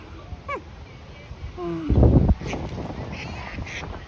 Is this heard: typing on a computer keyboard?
no